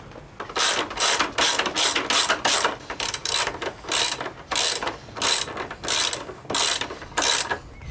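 A ratchet fitted with a 19mm socket works a fork bolt on a Yamaha MT-07 (FZ-07) motorcycle, giving quick, even bursts of close, crisp clicking over about eight seconds with no talking.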